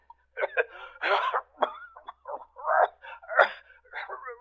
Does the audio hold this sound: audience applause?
no